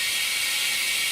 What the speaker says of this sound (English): Turn on our vacuum.